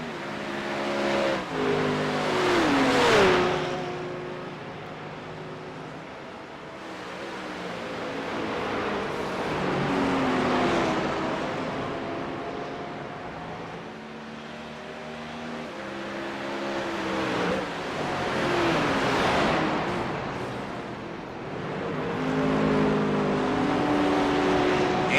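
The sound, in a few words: GT3 race cars racing at Bathurst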